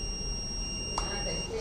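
An electronic buzzer on an automatic rain protection system for crops sounds a steady high-pitched tone for about a second and a half, faint and continuous against a quiet background hum.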